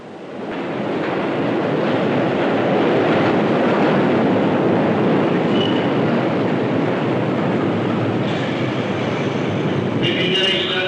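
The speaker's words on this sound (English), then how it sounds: "there are tube railways, which carry people from everywhere to Piccadilly" A London Underground tube train runs in the tunnels beneath Piccadilly Circus, a dense continuous rumble and rattle of wheels that swells in quickly and stays loud, with a brief squeal near the end.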